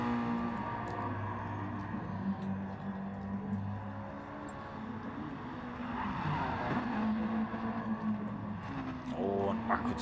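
A Mazda Challenge race car on wet tyres sliding sideways at Brands Hatch, engine droning steadily at a distance with tyre squeal and skidding rising toward the end, while a commentator talks over it.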